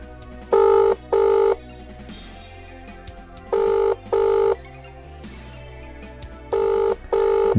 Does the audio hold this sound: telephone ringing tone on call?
yes